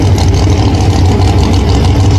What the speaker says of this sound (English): If you are a fan of screaming small blocks